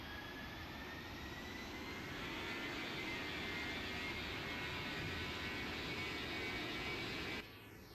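A Boeing 777 takes off with five degrees of flaps in a flight simulator game, its jet engines producing a loud, steady broadband roar that swells slightly and holds before cutting off abruptly near the end.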